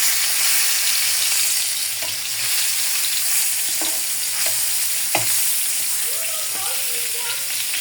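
Eggplant slices fry in a pan with a strong, continuous sizzle, broken by a few sharp scraping knocks as pieces are turned over, close and loud.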